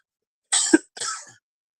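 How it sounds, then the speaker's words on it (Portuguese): Two quick, loud coughs close to a microphone, with a brief gap between them, from someone speaking at a church Bible class. "ainda tem um resquício de tosse que de vez em quando ela me pega"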